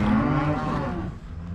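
Cattle on a Montana ranch, cows and calves, moo loudly and close in overlapping, sustained calls that fade slightly toward the end.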